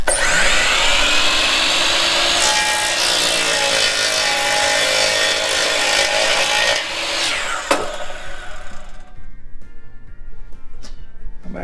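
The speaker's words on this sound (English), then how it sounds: "I'm going to cut four of them the exact same length" A power saw cuts through 2x4 lumber, a loud, close, sustained whining cut that drops off near the end, followed by quieter clattering of wood and tool handling.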